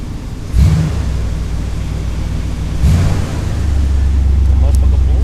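Heater blower fan running steadily in an Oldsmobile Cutlass after a heater core replacement, a continuous low whooshing hum that rises slightly in strength partway through, with brief thumps over it and someone talking.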